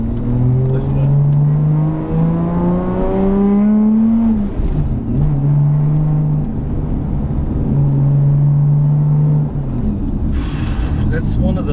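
A tuned inline-six engine of a Toyota Supra JZA80, tuned by a Tokyo-area shop, revs loudly close by, climbing through several rising sweeps and then holding steady high revs before settling back.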